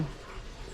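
A dog pants and whimpers faintly indoors in a house, a brief, close, breathy sound with no talking.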